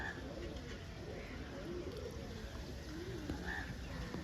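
Soft, repeated cooing from yellow-eyed pigeons and young squabs at a crowded bird market, several low calls rising and falling over a constant wash of background chatter and flock noise.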